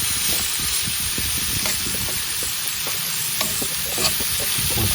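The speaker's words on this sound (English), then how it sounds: "And goes the onion. Stir around so that the onions have a heat." Onions being stirred as they fry in a pan, with a steady sizzle throughout and scattered scraping clicks from the stirring, close and clear.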